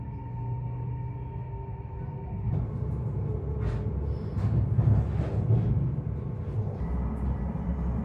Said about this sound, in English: Across on platform 6 is the early morning D7185 train bound for Zhuhai, scheduled for 6:32 departure.